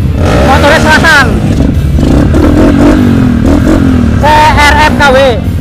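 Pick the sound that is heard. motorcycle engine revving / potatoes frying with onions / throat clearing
motorcycle engine revving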